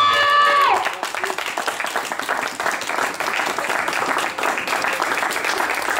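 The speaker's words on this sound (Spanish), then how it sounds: "¡Fuerte el aplauso!" An audience at a queer variety show breaks into sustained applause and clapping after a brief sustained tone at the start, with crowd noise mixed in.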